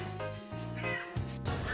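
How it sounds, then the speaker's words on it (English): A cat meows in a few drawn-out, tonal cries at close range, fairly soft and mostly alone, with only faint sounds around it. "Hi, kitty kitty."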